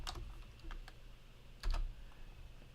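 Quick keystrokes on a computer keyboard while entering a numeric value in CAD modelling software, a few light taps followed by one louder key press, close and quiet with no talking.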